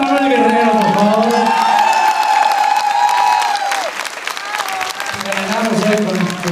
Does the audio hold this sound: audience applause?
yes